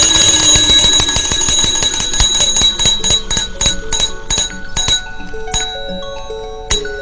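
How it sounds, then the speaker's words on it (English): A small bell on an early electrochemical telegraph receiver rings loudly and close, with a rapid run of metallic strikes that slows into spaced, ringing dings. "and triggers a bell."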